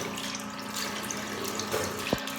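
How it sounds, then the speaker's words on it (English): Lukewarm tap water runs steadily into a sink while a face is rinsed, a close continuous splashing flow with a couple of small sharper splashes near the end. "You can wash this off with lukewarm water or with just the normal water."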